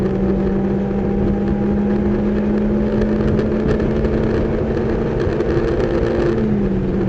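A race car's engine drones steadily at high revs during a lap of Sebring, holding a sustained note with a brief pitch drop near the end as it shifts gears.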